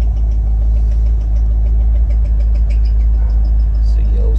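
A barn-find Chevrolet Corvette Z06 engine idles steadily with a low, constant rumble and faint ticking from the serpentine belt area, close and continuous throughout.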